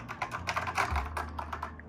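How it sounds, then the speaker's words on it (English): Buttons pressed on a NABU computer keyboard, a quick run of light plastic clicks and taps at close range, with no talking. "I'm pushing some buttons on the keyboard here"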